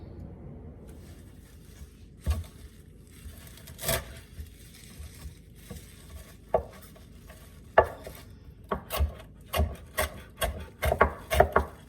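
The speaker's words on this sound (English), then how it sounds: "Now I'm going to chop up my parsley and my onions." A knife chops parsley and onions on a cutting board in sparse single strikes at first, then quickening into a rapid irregular series of sharp close knocks.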